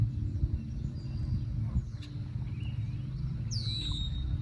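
A red-winged blackbird calls outdoors near a railway line where ducks and trees are around, its few thin rising whistles and a brief squeal standing out over a steady low rumble of background noise.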